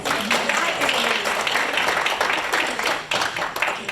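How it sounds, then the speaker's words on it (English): Audience applause at a reunion gathering, a steady wash of many hands clapping at close range, filling the whole stretch with only a brief dip near the end. "That deserves applause."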